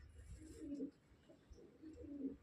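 A purple-footed pigeon coos softly, two low throaty burbling calls separated by a short pause, close by and otherwise quiet.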